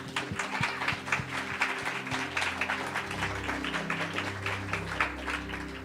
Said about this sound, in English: Let's give them a heartfelt round of applause,